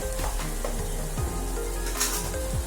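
Ginger garlic paste sizzles and fries steadily in a hot pan for a mutton, cucumber and tomato curry, a close continuous crackle with soft scraping strokes of a spoon stirring through it.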